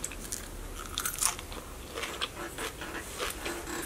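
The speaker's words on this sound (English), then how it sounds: "then I'm going to try some spinach and lettuce." Someone bites and chews raw spinach and lettuce leaves up close, with repeated crisp crunches and wet chewing at an uneven rhythm.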